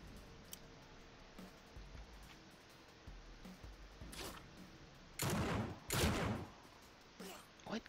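Pistol shots from a 9mm in the video game Dead State: two loud, close bursts sound together in the middle, a fainter crack follows near the end, and low game ambience and scattered ticks run throughout.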